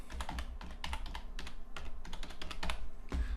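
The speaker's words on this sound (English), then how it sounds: "type in description." Quick, uneven clicking of keys on a computer keyboard, close and clear, with short pauses between flurries of keystrokes and no speech.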